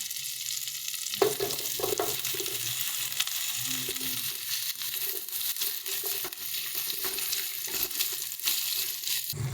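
Capsicum sizzles with spices in a hot pan for chilli cauliflower, a steady frying crackle broken by scraping and stirring knocks from a spoon, close and alone without talk.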